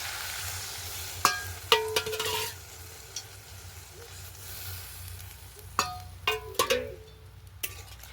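Water poured into a kohlrabi curry in a pan gives a short, quiet sizzle, followed by scattered clinks and scrapes of a utensil stirring against the pan.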